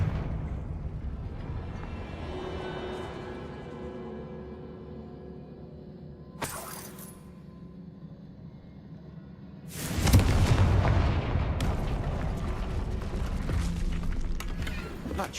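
Spell blast from the Confringo fire curse in Hogwarts Legacy, a sudden loud burst with crackling debris after a quieter stretch carrying faint game voices and a brief earlier thump.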